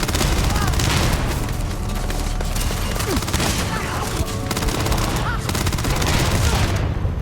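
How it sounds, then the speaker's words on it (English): Steady, dense gunfire and explosions fill a Starfield firefight, with bursts and booms running continuously and loudly throughout; a voice is faintly present underneath. "those explosions just hit me too"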